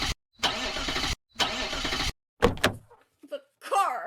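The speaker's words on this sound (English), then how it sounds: "The car! It won't start!" A car engine cranks twice in long grinding bursts and fails to catch, followed by short clunks and then voices speaking.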